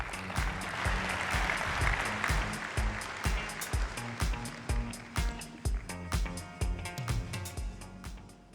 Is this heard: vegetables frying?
no